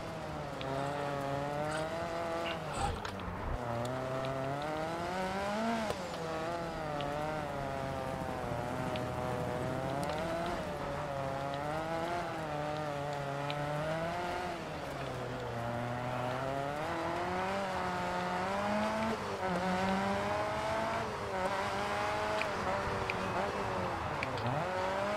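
A rally car in the Dirt 4 video game drives with a continuous engine drone whose pitch rises and falls with each gear change and throttle shift, steady and fairly loud throughout, with a voice talking over it in places.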